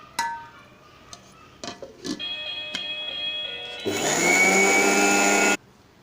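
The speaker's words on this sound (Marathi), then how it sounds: "एकदा मिक्सरमधून वाटून घेणार आहे व्यवस्थित" A kitchen mixer grinder whirs loudly for about two seconds while grinding peanut chutney with salt and red chili, preceded by a few clicks and taps, then stops abruptly.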